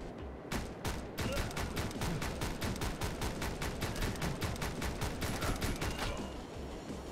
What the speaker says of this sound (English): Oh, they shot me.